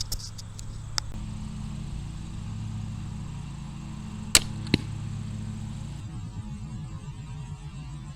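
A Barnett four-band slingshot crossbow fires at close range, giving sharp snapping releases near one, four and a half and four point seven seconds over a steady low mains-like hum, with no talk.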